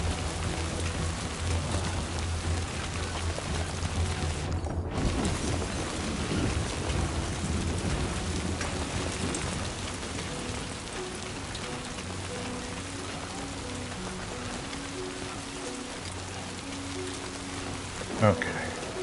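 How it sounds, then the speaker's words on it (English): Rain falling in Death Stranding 2 on PS5, a steady dense patter on surfaces lasting throughout, moderate in level with a faint voice and a short bump near the end. "Oh, you can feel the rain."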